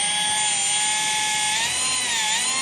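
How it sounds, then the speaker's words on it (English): A drill pre-drilling into a billet engine case for a Can-Am X3 gives a steady, loud, high-pitched whine that holds close and constant, wavering only slightly in pitch as it bites. "So now we got this 40-foot drill here."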